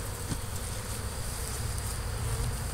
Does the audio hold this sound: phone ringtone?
no